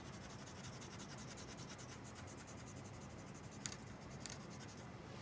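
Pencil strokes scratching on paper while sketching a sky with a Sketch and Wash pencil, a steady soft dry rasp that continues throughout with a couple of small taps near the end, quiet and close.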